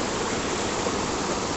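Steady rushing of a waterfall and stream in a forest pool, a continuous broadband wash of flowing water with no other sounds.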